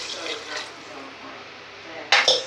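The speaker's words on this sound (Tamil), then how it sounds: "இந்த எலும்பு முங்குற அளவுக்கு தண்ணி விட்டுக்குருவோம்." Water pours into a cooking pot holding goat legs for soup, a soft, steady splashing fill heard up close, ending in a brief louder clatter of the pot.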